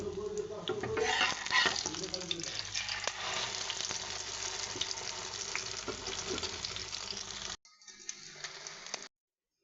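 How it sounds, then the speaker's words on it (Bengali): An egg fries in a pan for a vegetable khichuri breakfast, giving a loud, steady crackling sizzle with small stirring clatters, then an abrupt drop to a quieter, thinner sizzle for the final seconds. "গাইস, ডিমটা ভাইজা নেই"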